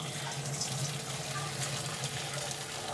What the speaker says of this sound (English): So first of all, we're just going to drain these off.